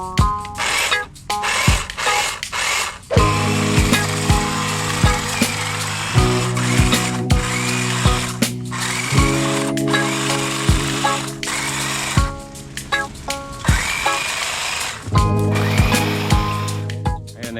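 A power saw whirs near a house in Canada, its motor holding steady then shifting pitch in several steps over about eighteen seconds while cutting, with brief dips and no talking.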